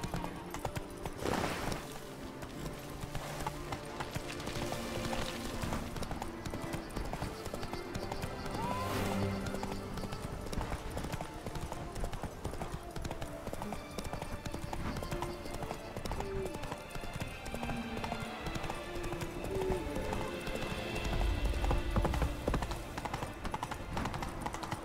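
Hooves of the horse Roach galloping in The Witcher 3 video game, a steady rapid clip-clop running under continuous game music and ambience, with a brief whinny.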